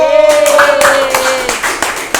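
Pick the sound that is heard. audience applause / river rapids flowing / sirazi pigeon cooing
audience applause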